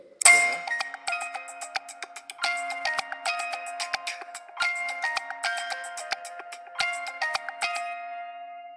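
A phone plays a WhatsApp video call ringtone, a bright chiming melody of repeated bell-like tones cycling in short phrases, loud and clear with no talk.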